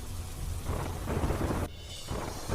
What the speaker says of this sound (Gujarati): વલસાડમાં મેઘરાજાએ બોલાવી દળવડાથી ભારે વરસાદ વરસતા રસ્તા પર ઠેર ઠેર જળબંબાકારની સ્થિતિ.